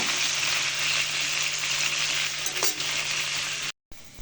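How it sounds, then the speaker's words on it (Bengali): Chicken pieces for biryani fry in a pan, giving a loud continuous sizzle close by with a light clink near the middle and a brief drop to silence near the end. "এই পাশটা এইভাবে লাল করে ভেজে নিব।"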